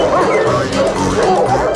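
Loud, close yapping and barking from dogs, overlapping in a busy excited burst, mixed with whimpers and yips.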